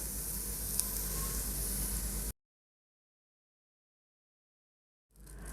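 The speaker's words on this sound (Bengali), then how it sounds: "এই পেঁয়াজগুলো আমি রসুনের মতো লাল করে ভেজে নেব" Onions and garlic frying in oil in a pan, a dense close sizzle that cuts to silence partway and returns faintly at the end.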